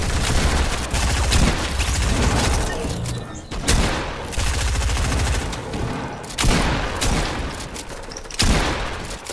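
Loud, dense bursts of video game shotgun fire, with heavy blasts recurring every couple of seconds over continuous battle noise.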